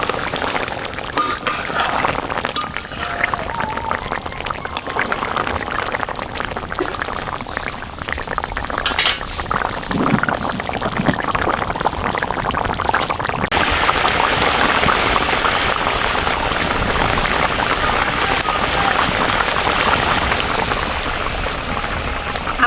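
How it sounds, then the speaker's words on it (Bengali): Parshe fish simmering in mustard paste in a pan, a steady bubbling, hissing cook noise throughout, close and fairly loud, growing denser and brighter in the second half as the fish is stirred, with no talk. "এখন আমি মাছটা সামান্য একটু নাড়িয়ে দেব"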